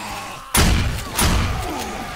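A zombie blows up at a door in the video game 7 Days to Die, with a sudden loud booming blast, a second thump just after, and a fading rumble.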